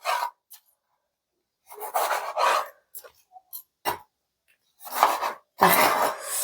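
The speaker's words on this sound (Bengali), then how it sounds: "আর একটা বড় সাইজের টমেটোটা কেটে দিচ্ছি" A large tomato is sliced with a knife in short separate bursts of close, crisp cutting sounds against a board, separated by silent pauses.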